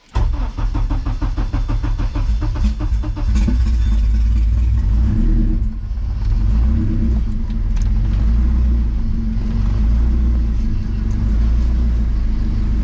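A car with a newly installed hood exit exhaust cranks and fires up, then settles into a loud, steady rumbling idle with a few revs, close up and continuous with no talk.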